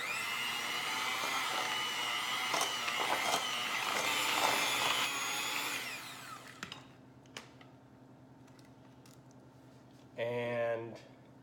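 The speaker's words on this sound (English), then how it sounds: "we're going to blend this together" Electric mixer blending cream cheese and sweetener for a keto cheesecake, a steady buzzing whir for about six seconds that then stops, followed by clatter and a brief whir near the end.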